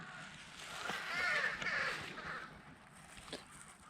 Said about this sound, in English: Are those crows laughing at you, Haley?